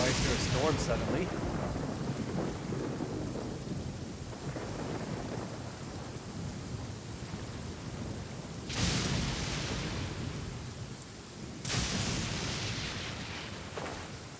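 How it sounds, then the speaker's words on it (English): In a video game, a thunderstorm brings steady rain with sharp thunder cracks and rolling rumbles, two loud bursts standing out late, while a voice talks faintly underneath. "Why is there a storm suddenly?"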